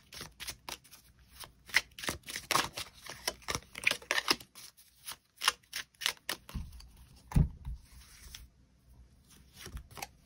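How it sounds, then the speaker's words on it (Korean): Tarot cards being drawn and shuffled: a rapid run of crisp card riffles and slaps with dense bursts, heard close and alone, then a few heavier soft thumps near the end as cards are laid down. "추가 카드 뽑아보도록 하겠습니다"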